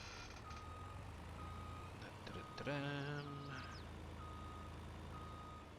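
Truck reversing beeps from a vehicle in the SilverRun driving game: a steady series of evenly spaced electronic beeps over a low engine drone, briefly joined by a louder tonal blare midway.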